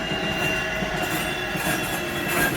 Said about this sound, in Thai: รถไฟเขาจะวิ่งบนนี้ค่ะ